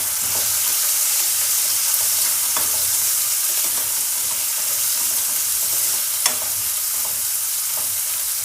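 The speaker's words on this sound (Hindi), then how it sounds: "अब मैं इसमें ऐड कर दूँगी ये प्याज।" Onions frying in a kadhai after cumin, a loud, dense, continuous sizzle close up with occasional clinks of a steel ladle, and no voices.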